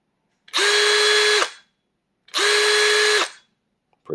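A compact cordless drill whirs up twice in loud, steady one-second bursts, each ending in a quick brake that cuts the motor off sharply, with silence between runs.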